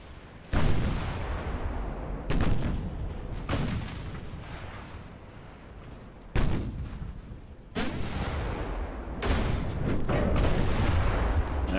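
Heavy naval guns boom in separate salvos of high-explosive shells during a Bismarck-versus-fleet battle in Ultimate Admiral: Dreadnoughts, each blast loud and sharp with a long rolling decay, about five shots spaced a second or two apart.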